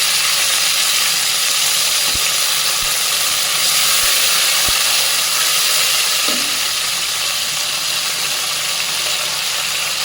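A little water added to frying onions, giving a loud, steady hissing sizzle of steam that holds evenly throughout with a few faint clicks, close up, with no talk.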